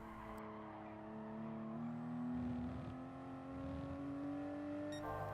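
A Toyota GR Supra race car engine in Gran Turismo Sport at Circuit de la Sarthe holds a steady high whine at full throttle, its pitch climbing smoothly through a gear change, heard alone from onboard.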